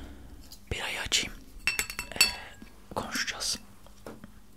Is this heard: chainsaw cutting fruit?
no